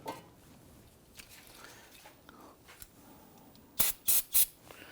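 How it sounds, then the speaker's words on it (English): Spray solvent bursts onto an Infiniti G37 brake caliper in three short, loud aerosol blasts near the end, after a stretch of quiet handling clicks and light rustling in a garage. "you want to go ahead and use some spray solvent"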